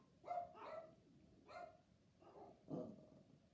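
Dogs barking indoors in about five separate bursts, moderately close and fairly quiet, with short gaps between them.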